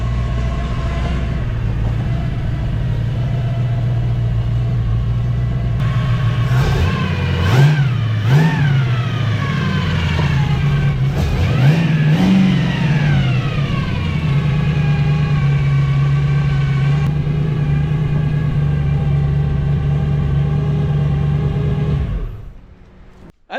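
A tri-power engine in a mini truck, fitted with a noisy gear drive, idles loudly up close and is blipped through several sharp revs in the middle, then settles back to a steady idle before cutting off near the end.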